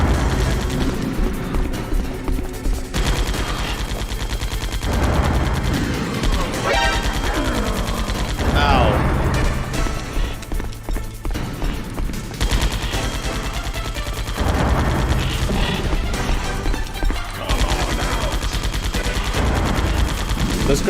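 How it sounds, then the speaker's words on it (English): Grenade blasts and rapid gunfire from the Final Fantasy XIV video game come in dense bursts with booming hits, layered over game music and effects for a sustained, loud stretch, with brief pauses between volleys. "This grenade attack, it's not really working out."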